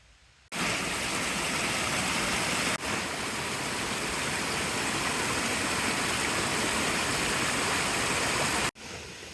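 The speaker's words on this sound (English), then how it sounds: "You can see the trail goes across the creek and then down this side of that cliff." A wilderness creek rushes past at a trail crossing in a steady, loud, broadband roar of flowing water that begins abruptly, holds nearly unchanged for about eight seconds, then briefly cuts out near the end.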